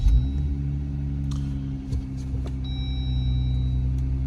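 A Jeep Wrangler engine starting and settling into a steady, deep idle rumble, close by and continuous, with a few faint clicks and a brief electronic tone over it.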